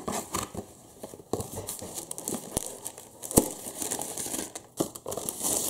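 Crinkly transparent paper being handled nearby, bursts of crackling rustles coming and going between brief pauses.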